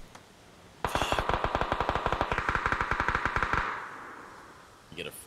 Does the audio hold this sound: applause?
no